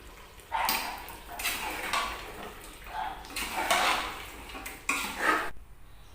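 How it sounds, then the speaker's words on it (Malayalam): Chicken dum biryani with pistachios is stirred in a pot, making several bursts of spoon-on-metal scraping and clinking, close and moderately loud, ending abruptly. "ഇനി നമുക്ക് വീണ്ടും ഇളക്കി കൊടുക്കാം."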